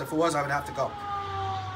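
A fire engine siren wails faintly in the distance, a steady rising-and-falling tone under someone speaking close by in a workshop.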